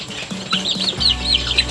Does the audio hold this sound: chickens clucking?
yes